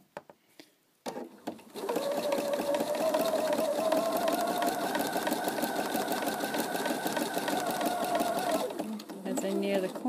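A sewing machine stitches hexagon machine appliqué in a long steady whir after a few soft clicks, running forward and in reverse at close range, then pausing briefly near the end.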